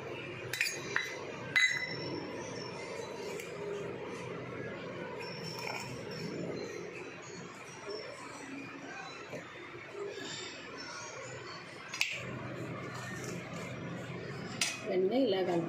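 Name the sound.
mixing spices with fish in a dish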